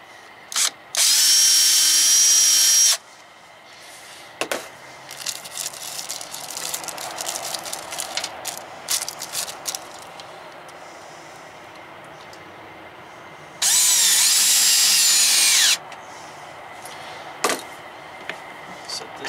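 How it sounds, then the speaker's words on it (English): A power drill runs in two loud, sustained bursts of a couple of seconds each, separated by quieter handling clatter and knocks. "One more hole to drill."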